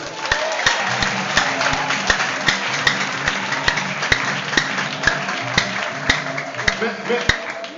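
A church congregation applauds the Lord during a sermon on the mark of the beast and Christ's return, steady rhythmic clapping with sharp regular beats over a continuous crowd wash, with voices underneath.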